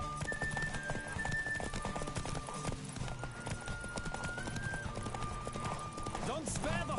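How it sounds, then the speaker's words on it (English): A galloping horse in The Witcher 3 during a race, with steady rhythmic hoofbeats throughout and a neigh near the end, while game voices talk over it. "Don't spare the horse!"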